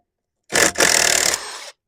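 A power driver runs a screw into wood for deck steps in one loud, close burst about a second long, with a brief catch near its start before it winds down.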